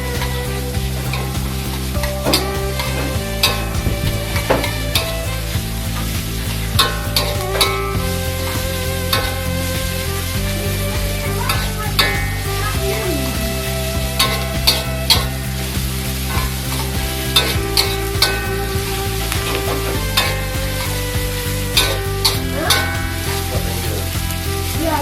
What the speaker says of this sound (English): stir fry the bawang bakung